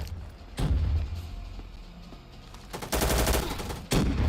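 Video game gunfire in an arena fight, sharp loud bursts of rapid shots in short volleys separated by quieter gaps, with no talk over them.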